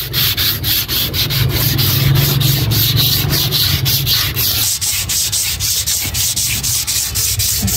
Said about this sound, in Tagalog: pwede siyang lihain dito sa likod habang pinapalkot niyo yung kanyang rotor disc